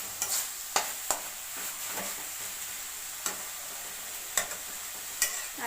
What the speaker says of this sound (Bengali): আর একটু গ্যাসটা এই সময় বাড়িয়ে দেবো, দিয়ে একটু ভালো করে নেড়ে চেড়ে শুকিয়ে নেব